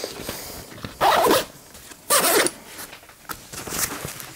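Zipper on the main compartment of a Mil-Tec Assault II large military backpack pulled open in a few short, rasping strokes, close and fairly loud, with faint handling noises between pulls.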